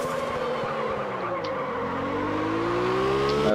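Drift car in the video game Absolute Drift sliding sideways, with a sustained engine drone and steady tire squeal running loud and continuous throughout, the pitch slowly climbing toward the end.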